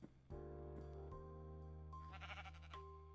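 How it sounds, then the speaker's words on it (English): A sheep in Minecraft bleats several times at low volume, with drawn-out, wavering calls following one another over a few seconds. "What are you doing, sheep?"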